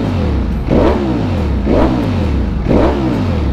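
A big bike fitted with an Akrapovic exhaust revs hard three times in quick succession, each throttle blip rising and falling with a deep, loud roar and slight clatter, close by and with no talking.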